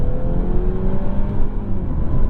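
A Mercedes C-Class sedan with a combustion engine and electric boost pulls hard at full throttle, a loud, steady engine drone with rising harmonic tones under heavy road and wind noise from inside the cabin.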